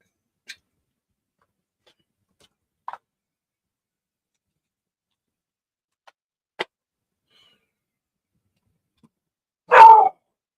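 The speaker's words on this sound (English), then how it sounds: "Dog's barking." A single loud, close dog bark near the end, following long near-silence broken only by a few faint scattered clicks and taps.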